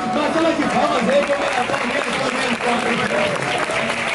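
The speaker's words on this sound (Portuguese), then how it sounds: "Batalha de palmas aí" A crowd claps continuously and loudly at a Rio de Janeiro street rap battle, a dense, unbroken wash of applause with crowd noise underneath.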